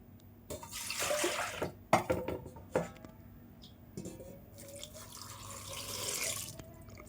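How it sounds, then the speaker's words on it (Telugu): Water is splashed and poured into a pot holding soapnuts and shikakai for homemade dish wash liquid, coming in short bursts of pouring and trickling with splashes and dripping between. "ఇప్పుడు దీంట్లో 1 లీటర్ వాటర్ వేసుకుందాం."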